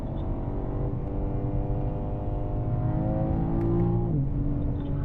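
A BMW M car accelerating on a race track, its engine note rising steadily in pitch under continuous throttle, a dense droning roar heard from inside the car, with a brief dip near the end.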